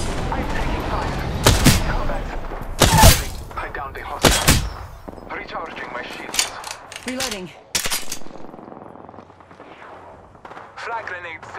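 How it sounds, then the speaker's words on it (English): Gunfire in Apex Legends during a match, several loud sharp shots and bursts at irregular intervals with explosive booms, alongside character voice callouts and game effects. "Opening fire on the enemy."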